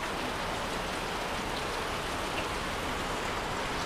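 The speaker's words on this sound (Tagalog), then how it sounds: "Pati ba naman dito sa Kasiguran pag pupunta ulit talagang ulan din." Rain pours steadily in Kasiguran, a dense continuous hiss of drops on surfaces, fairly loud and close, with no voices.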